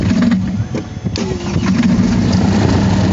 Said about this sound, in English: Clear, engine number one starting up.